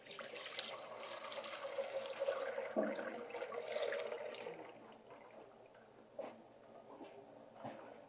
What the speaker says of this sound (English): I'm just going to pour this lard through that sieve